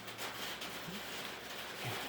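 Rain drumming on a tin roof, a faint, steady broadband patter with no clear individual drops, distant and even throughout.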